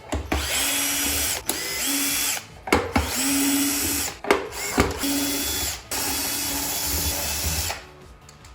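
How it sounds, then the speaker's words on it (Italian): A power drill with a Torx T10 bit whines in repeated bursts while backing screws out of a Folletto VK140 vacuum cleaner shell, with short pauses between each screw and a brief ratcheting click. "Noi adesso utilizzeremo un trapano per fare prima"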